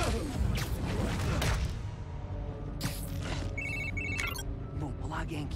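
A phone rings in Spider-Man: Miles Morales, its repeated electronic trill arriving late in the scene over game whooshes, impacts and a constant low soundtrack.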